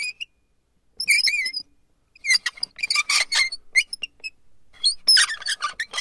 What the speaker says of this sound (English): This is an old school countertop meat grinder.